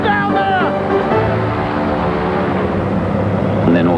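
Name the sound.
aeroplane engine in flight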